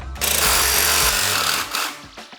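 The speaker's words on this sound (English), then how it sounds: "we break out the jigsaw and waz that bit off" A jigsaw trims a new piece for a Land Rover Defender 110 chassis in one loud, close, continuous buzzing cut of about two seconds before tapering off.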